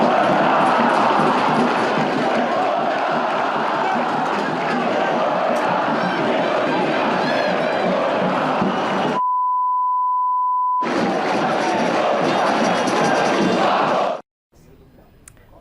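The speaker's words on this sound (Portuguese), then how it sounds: "a gente pôde ouvir a torcida, principalmente a torcida organizada, criticando a diretoria" Organized football supporters in a Brazilian stadium chant together in criticism of the club's directors, a loud, continuous crowd roar broken by a long censor-style beep before the chanting resumes and then cuts off.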